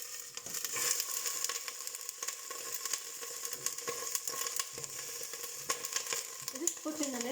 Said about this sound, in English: Oil has heated up, so I'm just going to reduce the heat, and I will slowly put the kale in.